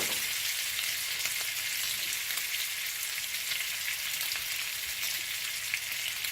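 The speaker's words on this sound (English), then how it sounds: "this has been sizzling for a few minutes" Pork chops sear in a hot pan, giving a loud, steady, close sizzle with a dense crackling hiss that continues without pause.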